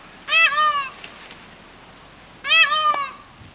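Two loud, harmonic wailing peacock calls, each about half a second long, coming from close by on the Isle of Mull, Scotland. A short gap of quiet separates the two cries.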